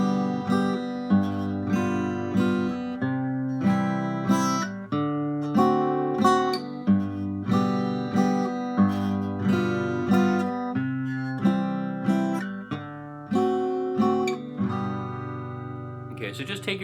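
A strummed chord progression in 3/4 time rings out alone, with steady, evenly spaced strums and sustained chords carrying through the whole passage.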